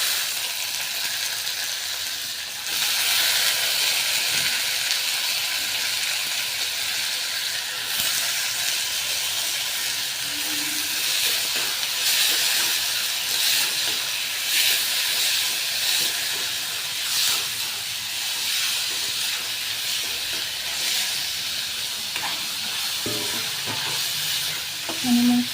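Washed tomatoes tipped into a pan of reddened fried onions set off a steady, loud hiss and sizzle that runs continuously, with faint stirring scrapes now and then.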